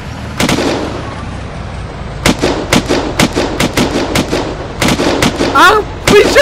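Tank firing in Unturned: a rapid series of loud, sharp blasts and bursts, some clustered in fast volleys, close and aggressive, with voices briefly heard among the shots.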